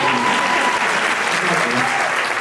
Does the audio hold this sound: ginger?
no